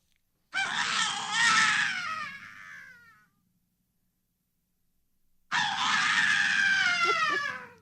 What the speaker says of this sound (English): this is a session for that initial scream at the beginning of the cue